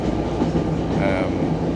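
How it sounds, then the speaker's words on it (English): Steady low rumble of a train rolling along the rails between Par and Newquay in Cornwall, a continuous close-up drone with faint rhythmic clatter underneath. "I'm on a slightly less salubrious train now on my way to Newquay from Par"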